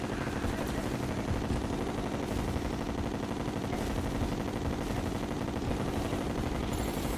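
Rapid, continuous gunfire from a Terraria game battle crackles dense and steady throughout, with no voices over it.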